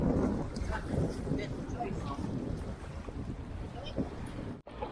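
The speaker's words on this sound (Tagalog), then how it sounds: "Hirap ngayon kasi maalon, mahangin." Gusty wind buffets the microphone over choppy water sloshing against a boat, a continuous rough rush with a voice in the background.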